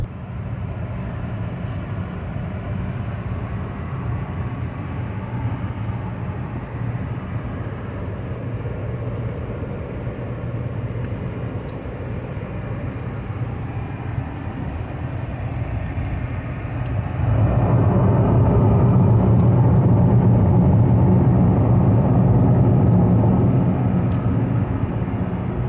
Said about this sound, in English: When it's a really rough road surface, you can hear a lot of road noise.